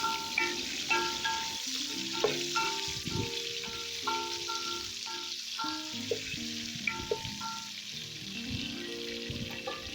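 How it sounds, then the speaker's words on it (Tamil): Sliced onions sauté in hot oil for chicken dum biryani, giving a steady close sizzle broken by repeated scraping stir strokes. "வெங்காயம் போட்ட பிறகு வெங்காயம் நல்லா வதங்க விட்டுருங்க"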